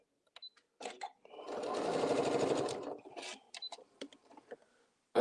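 A sewing machine fitted with an AccuFeed walking foot runs in one short, steady burst lasting under two seconds, surrounded by faint clicks and small handling noises in a quiet room.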